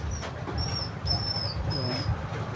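A tied-up pet dog whimpers after spotting food, giving about four thin, high whines in a row over a low background rumble.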